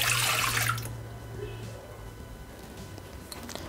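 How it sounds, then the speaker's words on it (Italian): Milk pours into a Thermomix (Bimby) jug for a cinnamon braid dough, making a brief liquid splash and gurgle at the start that settles into faint background noise. "Iniziamo la ricetta mettendo all'interno del boccale il latte"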